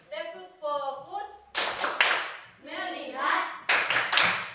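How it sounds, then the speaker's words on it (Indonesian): Children in a classroom chant in unison while giving rhythmic group hand claps in the tepuk fokus class clap, with dense bursts of clapping alternating with the chanted voices. "Tepuk 1, tepuk 2, tepuk 3, tepuk 4, konsentrasi, tepuk fokus"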